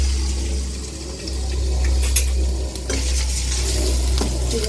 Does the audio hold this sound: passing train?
no